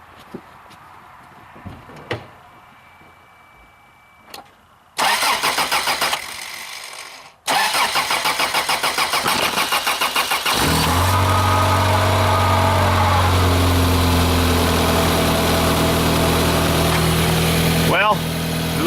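Mud motor engine: a few faint clicks and knocks, then a burst of cranking, after which it catches and settles into a loud, steady close-up running drone.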